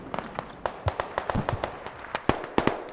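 Several sharp cracks and pops in quick irregular succession, like grenade blasts and gunfire in a winter battle on a tactical shooter map, fairly close and fading between bursts, with faint voices underneath.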